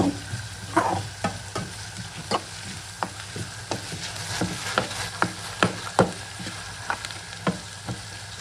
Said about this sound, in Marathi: कांदा पण मस्त आपल्याला लाल करून घ्यायचा आहे.